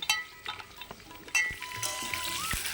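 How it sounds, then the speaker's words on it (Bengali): Papaya and potato pieces fry in oil, browning red, with a soft sizzle broken by sharp clinks and scrapes of a utensil against the pan. "আর এদিকে দেখো আমার পেঁপে আলুটা বেশ লাল লাল করে ভাজা হয়ে গেছে।"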